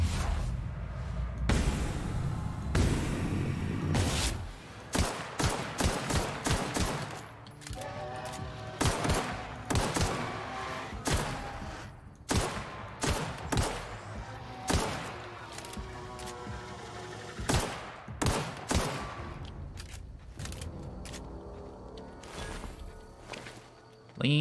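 Bursts of gunfire in the video game The Outer Worlds, with rapid volleys of loud, close shots in dense clusters, brief pauses between runs, and some whooshing and impacts mixed in.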